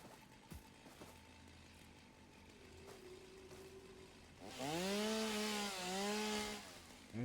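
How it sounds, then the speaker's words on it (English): A chainsaw in a video game starts up about halfway through, buzzing loudly with pitch that dips and rises as it bites into wood, after a quieter stretch of low hum and faint game sounds. "using the chainsaw."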